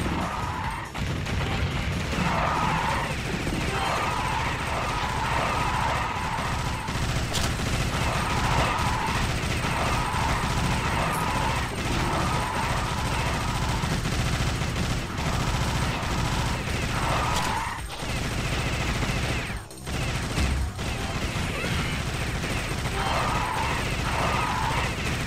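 Rapid bursts of gunfire in Alien Shooter crackle repeatedly over a dense background of mechanical noise, with occasional sharper impacts and a brief dip near the end.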